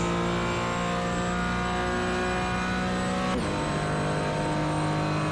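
A race car engine in a sim racing game holds a steady high drone, then shifts pitch sharply partway through as the throttle changes, with no voices over it.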